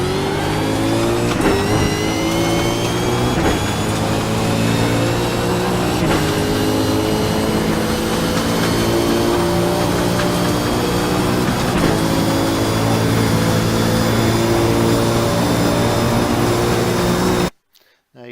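A race car on the Mosport track accelerates hard through its gears toward the top of sixth, the loud engine whine climbing steadily with brief drops at each upshift before cutting off abruptly near the end.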